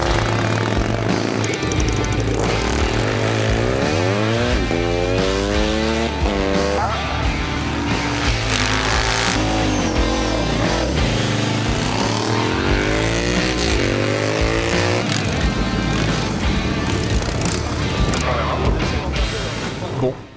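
Loud vintage motorcycle engines roar and rev continuously during a race, their pitch rising and falling in sweeps as the bikes accelerate and shift.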